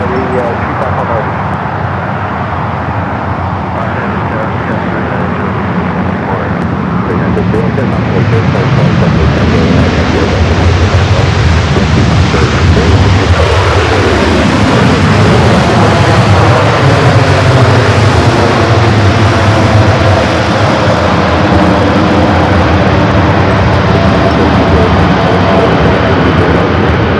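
A Qatar Airways Airbus A350-1000 in oneworld livery rolls down the runway at LAX, a steady loud roar of jet engines building and holding over a long stretch, with a voice talking over it.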